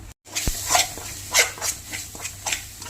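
Chicken coated with Kashmiri chilli, plenty of coriander powder and chicken masala is sautéed in a pan, with scraping stirs and soft sizzling that rise and fall in bursts close by, with no talk.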